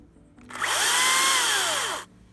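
An electric chainsaw, clearing trees, whirs up to a high steady whine for about a second and a half, then winds down, close and loud.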